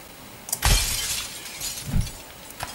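Glass shatters in the video game Happy Wheels, a loud sharp crash followed by tinkling shards, then a second smaller breaking burst and a faint tick, with no talking.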